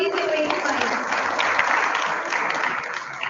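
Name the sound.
audience applause for young innovators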